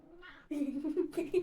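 Domestic cat meowing up close, a short soft call followed by a louder drawn-out meow with a wavering pitch, heard alone.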